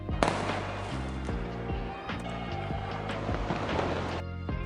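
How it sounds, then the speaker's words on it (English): A New Year fireworks sound effect with a crowd: repeated crackling bursts and pops over a dense, steady crowd roar, with a low tonal bed underneath. "New Year fireworks crowd."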